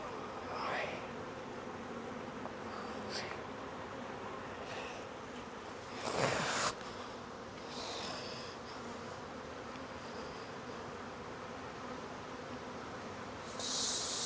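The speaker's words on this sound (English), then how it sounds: "Again, this is just an unreal amount of bees." Honey bees from a newly installed nuc drone around an open hive frame, a soft continuous hum close by with occasional louder buzzes of bees passing near.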